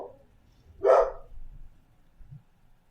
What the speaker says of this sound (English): sorry about the barking